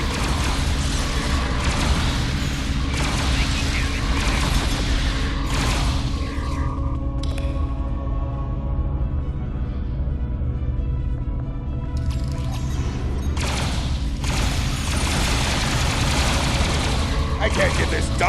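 Gunfire aimed at the player in Star Trek Online, dense bursts of loud rapid shots through most of the stretch with a quieter pause midway, mixed with a background voice.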